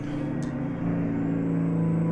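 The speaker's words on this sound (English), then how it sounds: "that noise you hear right now, that kind of whiny 6V-92, we'll be hearing that quite a bit." A video-game Mack R diesel truck with a 6V-92 engine, hauling fuel, drones steadily with a high, whiny tone. A brief hiss comes early, then the engine note rises slightly as it pulls.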